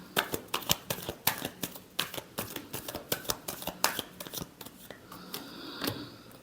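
Tarot cards being shuffled in rapid, crisp riffling bursts, a steady run of close papery flicks and taps with no talking.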